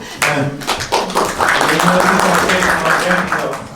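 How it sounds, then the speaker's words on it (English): Audience applause at a Green Liberal Democrats conference in Nottingham: a few sharp opening claps grow into a steady round of clapping, with a speaker talking over it. "Yes, by all means applaud."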